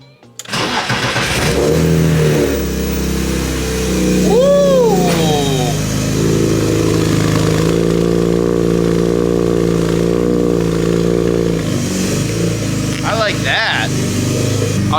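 An S54-swapped BMW E30 starts up and revs loudly and close, its engine note rising sharply in a couple of quick blips before settling into a steady, throaty idle with a final rev near the end.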